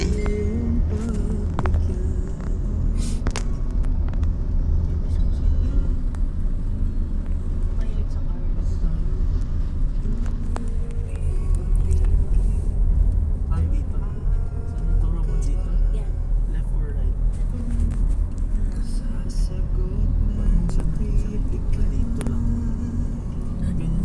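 Road traffic in Tagaytay rumbles low and steady, heard from inside a car, with engine and road noise under frequent talking from the people in the car.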